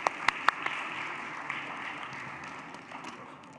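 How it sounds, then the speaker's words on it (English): Brief scattered claps from a conference audience, a few sharp near claps at the start, then a soft, steady patter of applause fading out. "A big round of applause for all of these wonderful women"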